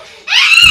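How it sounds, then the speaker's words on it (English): A young child lets out a short, loud, high-pitched excited scream that starts abruptly and holds for under a second. "but we don't gotta scream like that."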